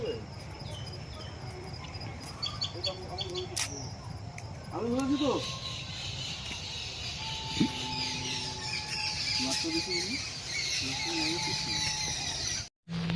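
Crickets trill steadily at an ashram while birds add scattered squeaks, chirps and whistled notes, some fairly close, all over a continuous outdoor hiss, with a brief dropout near the end.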